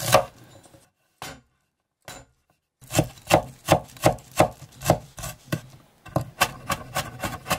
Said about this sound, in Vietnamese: Hành tím và tỏi thì mình băm nhuyễn ra.